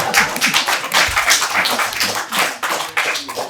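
An audience claps at a tribute day gathering, a dense burst of many hands applauding steadily for several seconds, loud and close, with faint talk underneath.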